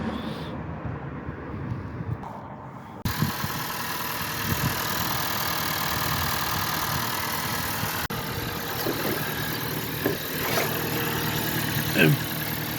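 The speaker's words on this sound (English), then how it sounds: "I've been running the engine for a few minutes now," A second-generation Honda HR-V engine idles after an oil change with 0W20, a steady even hum that runs without a break and stays fairly quiet and close.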